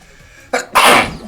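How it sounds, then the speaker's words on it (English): A single sneeze from a person during a Pokémon card game session, a short sharp burst followed by a longer, louder breathy explosion, close and alone. "It's a sneeze, excuse me."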